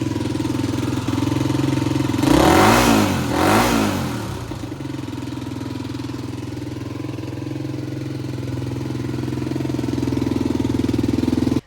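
A 1988 Honda XR600 single-cylinder dirt bike engine, idling steadily with a loud low thrum, then revved twice in quick succession before settling back to a steady idle, close by.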